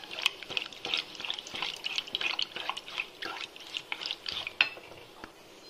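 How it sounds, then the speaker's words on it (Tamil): A spoon stirs wheat milk halwa sweetened with karuppatti palm jaggery in a pan, giving soft irregular scraping and wet clicking strokes, moderately close and with no talk. "அதுக்குள்ளே நம்ம இதை கிளற ஆரம்பிச்சிடலாம்."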